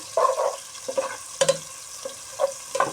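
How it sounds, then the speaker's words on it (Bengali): Onion browning in hot oil in a pan, stirred in short scraping strokes that come in several separate bursts over a soft sizzle, close by and with no talking. "নাড়াচড়া করবো পেঁয়াজটা বাদামি কালার হয়ে গেল"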